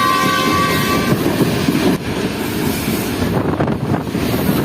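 An express train rolls past a container freight train standing on a station loop line, a loud continuous rumble and clatter of wheels on track with a sustained horn blast at the start, heard close from on board.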